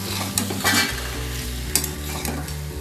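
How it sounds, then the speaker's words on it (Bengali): Potatoes and green chillies are stirred while frying for a Bengali aloo dum, with a steady sizzle broken by scraping strokes of a spoon against the pan. The sound is close and moderately loud, and no one speaks. "এবার আলু দিয়ে নাড়তে হবে। নাড়তে নাড়তে কাঁচা লঙ্কা দেবো।"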